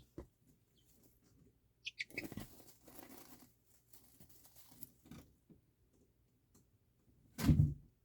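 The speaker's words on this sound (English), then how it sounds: "Oh, that's my cat jumping around on stuff." Soft scuffling and patter of a cat moving around on indoor furniture, ending in a louder thump or knock; quiet room, no talking.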